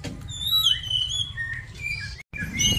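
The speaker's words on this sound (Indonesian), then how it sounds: "Nah, di sini ada burung punai" A green pigeon (burung punai) calls outdoors with clear whistled, sliding notes in a short run, fairly close over a low rumble of background noise, with a brief dropout near the end.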